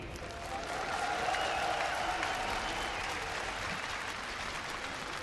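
At an esports grand final, a large arena crowd claps and cheers in a sustained, even wash of applause heard from a distance, fairly faint and without talk.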